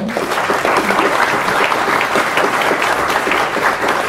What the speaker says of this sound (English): Would anyone like to give him a round of applause?